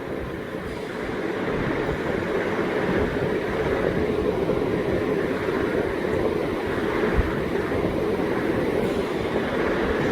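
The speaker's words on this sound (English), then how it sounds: "You can see with each flushing sound, the concentration is getting increased because at that particular point the nitrogen is getting flushed out." A Shree Kridha Oxy Care Plus 5 lpm medical-grade oxygen concentrator flushing out nitrogen during its cycles, heard as a steady, close whooshing hiss with one brief click partway through.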